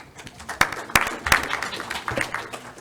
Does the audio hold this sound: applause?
yes